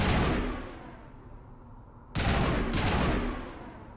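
Gunfire in the video game Mass Effect, a loud opening blast that fades out, then two sharp, close shots in quick succession, each tailing off into a rumbling decay.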